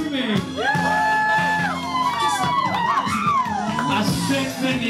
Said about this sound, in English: Give it up for girls screaming!